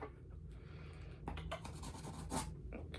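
A knife or box cutter scrapes and slices through the tape of a cardboard subscription crate box, with short close scratching strokes and crinkles over a quiet hum.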